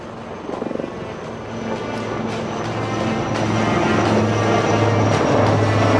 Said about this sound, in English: Next in line are the Light Combat Helicopters Prachand of the Indian Air Force.